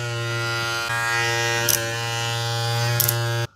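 A Suprent Pro Black Obsidian brushless-motor hair clipper runs close up with a steady, loud electric buzz and strong harmonic hum, with two brief clicks, before switching off abruptly.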